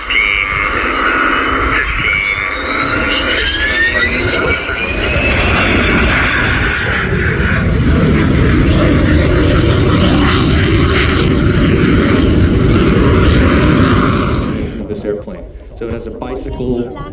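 An aircraft with tandem landing gear touches down on the runway at the RIAT airshow: a loud engine roar with a rising whine that holds steady, then fades. Someone talks throughout.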